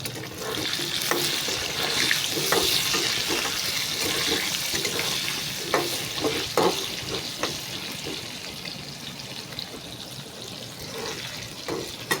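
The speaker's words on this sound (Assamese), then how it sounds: "আলুখিনি ভাজি লোৱাৰ কাৰণে অকণমান নিমখ, অকণমান হালধি দি লওঁ। আলুটো অকণমান ভাজি লওঁ আগতে।" Potatoes seasoned with salt and turmeric fry in hot oil, giving a steady, fairly loud hiss and sizzle that runs the whole time with small crackling pops and no voices.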